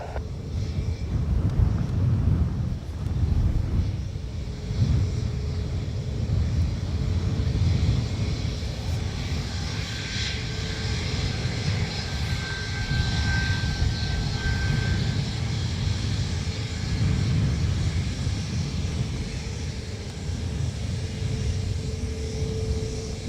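A Ryanair jet airliner takes off from runway 28 right at Dublin Airport, a sustained roaring engine rumble with wind buffeting the microphone, heard from a distance and holding steady throughout.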